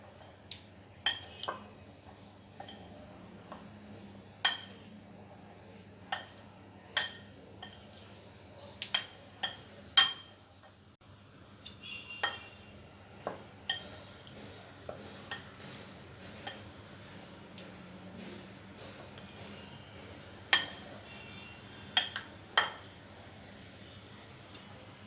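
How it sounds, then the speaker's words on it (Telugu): Chopped tindora pieces being mixed with salt and chili powder in a bowl give sparse, faint clinks and taps of a utensil against the dish, scattered irregularly over quiet background. "ఉప్పు కారం ముక్కలకి బాగా కలిసేలా కలుపుకోవాలి."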